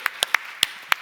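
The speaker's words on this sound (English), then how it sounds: "So let's give an applause to all of you." About five sharp, separate hand claps sound close together at a panel summit, sparse and uneven rather than a full audience roar, with no talking.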